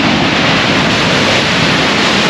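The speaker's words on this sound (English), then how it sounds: "10 to 12 feet, massive swell coming in. Big, massive waves." Big ocean swells of 10 to 12 feet break on the Holderness coast near Aldborough, a loud, steady roar of surf that fills the whole stretch with dense, constant noise and no talking.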